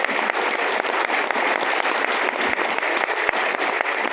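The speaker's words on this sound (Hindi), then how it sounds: "सीधे सीधे कहते आपकी तालियां कमजोर है साहब" Audience at a Hindi comedy poetry show in Lucknow breaks into sustained, dense applause, a continuous loud roar of clapping throughout.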